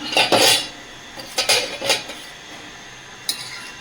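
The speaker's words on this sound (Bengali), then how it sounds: "ঢাকনাটা খুলে দেখে নেব।" Metal lid lifted off a cooking pot of boiled taro: a few clanks and clinks of pot and lid, quiet and close, spread over a few seconds with no speech.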